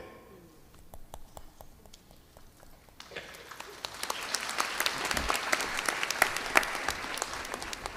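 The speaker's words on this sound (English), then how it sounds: "Oh, thank you for applauding yourselves." An audience breaks into applause, starting with scattered sparse claps and swelling into a dense, steady round of clapping that continues to the end.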